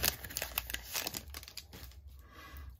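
Crinkly foil wrapper of a 2021 Donruss baseball card pack being torn and ripped open by hand, close and fairly quiet, with repeated sharp crackles over about three seconds.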